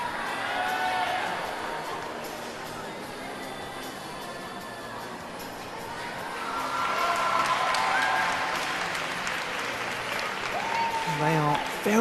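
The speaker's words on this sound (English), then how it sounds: "They are very much feeding off this rather vocal crowd, the Italians." A vocal crowd at a 2019 Universiade women's artistic gymnastics final applauds and cheers steadily after an Italian gymnast's routine, swelling louder midway, while a commentator talks over it.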